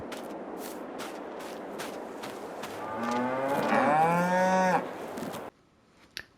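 A cow in a Farming Simulator 22 cow barn lets out a loud, drawn-out moo, preceded by a rhythmic series of soft footstep-like knocks, with ambient background noise.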